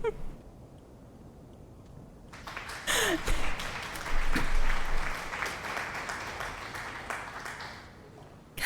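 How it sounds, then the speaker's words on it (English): Scattered clapping rises after a quiet start and builds to a fuller burst of applause mid-clip, then thins to patchy claps, with occasional squeaky tones over it. "thank you for the applause."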